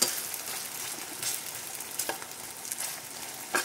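Potatoes fry in hot oil with a continuous crackling sizzle and scattered sharper pops, close and fairly loud, with no voices.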